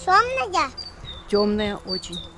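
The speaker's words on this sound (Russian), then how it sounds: "Слышь, как птица кричит, поет." Outdoors, a bird gives a few short, thin, high chirps spaced between and under nearby voices of a family talking.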